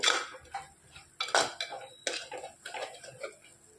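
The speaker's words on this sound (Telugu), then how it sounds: "మొత్తం కలిపేసుకోవాలి." A spoon scrapes and clinks against a pot while spice masala is stirred in oil for a spicy crab curry. The knocks are close and irregular, with a brief cough-like sound, and there is no talk.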